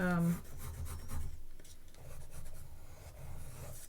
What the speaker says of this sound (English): I'm just gonna start sketching out this little bit here and some of the tail